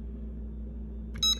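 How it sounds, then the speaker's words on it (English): A home security alarm keypad gives a short burst of electronic beeps as the alarm is being set, brief and close after a steady low hum. "Alright, so I'm gonna set her alarm."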